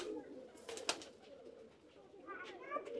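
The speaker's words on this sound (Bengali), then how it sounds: "এই যে নিচে দেখেন কত কবুতর।" A loft full of pigeons, with soft cooing and scattered calls from several birds at moderate distance, plus a few brief rustles and wing sounds in the quiet background.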